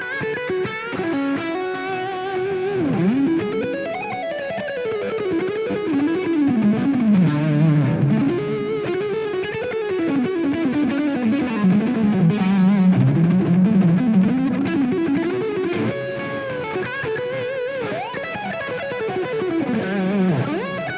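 Electric guitar playing a distorted lead line through an amp, sustained bending and sliding notes in a continuous phrase, loud and alone with no talk.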